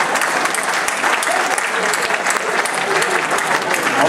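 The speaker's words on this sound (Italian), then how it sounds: "chiedo anche a voi di fare un applauso al boss" An audience at a gala evening in a dance hall in Spoleto breaks into sustained applause, a dense, even clatter of many hands clapping close by for several seconds.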